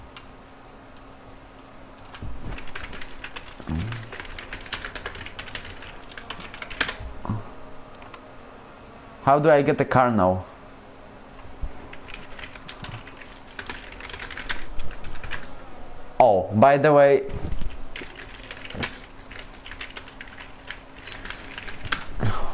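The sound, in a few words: typing on a computer keyboard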